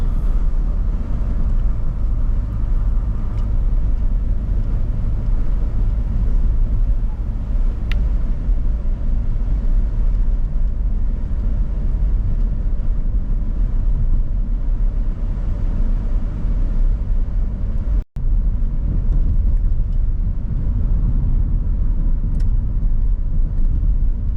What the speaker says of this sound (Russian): Это мы едем по так называемым farm roads, или еще их называют country roads.